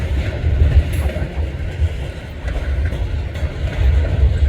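Freight train of grain cars rolls past close by on a windy day at a rail junction in Durand, a steady loud rumble of wheels on rails with faint clacking throughout.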